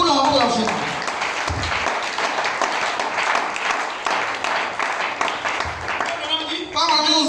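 A church congregation at a Sunday service applauds in a broad, continuous wash of clapping that fills the hall, with voices speaking over it at the start and end.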